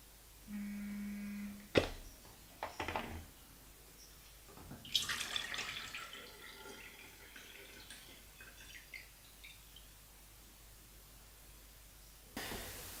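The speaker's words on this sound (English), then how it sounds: "We've got the bleach ready to decant, and we've got the developer ready to put back into the bottle." Liquid film developer from a colour film developing kit is poured back into its bottle, giving splashing, trickling pours with a few sharp plastic clicks and knocks, fairly quiet and without talk.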